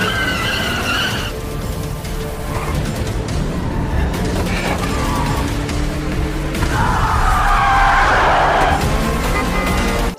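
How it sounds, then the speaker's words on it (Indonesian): Cars in a high-speed road chase roar continuously with repeated tire squeals and skids, a loud screeching burst late in the stretch, heard alone at close range. "terjadi kejar-kejaran di jalan raya"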